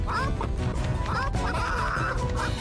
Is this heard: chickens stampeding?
yes